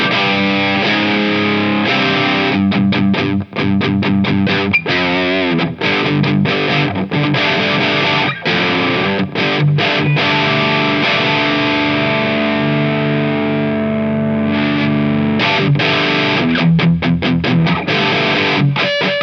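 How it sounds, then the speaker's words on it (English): Electric guitar played through a DOD Badder Monkey overdrive pedal on its badder setting, loud saturated distorted chords and riffs ringing continuously with brief stops, no talk. "I'd argue that that is more distortion territory than overdrive"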